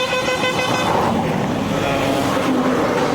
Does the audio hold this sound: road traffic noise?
yes